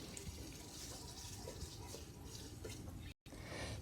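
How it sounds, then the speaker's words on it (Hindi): Water is added bit by bit to masala frying in oil for a baby potato curry, giving a steady, dense hiss and sizzle that runs continuously for several seconds. "थोड़ा थोड़ा सा पानी डाल के इसको अच्छे से भून लेंगे"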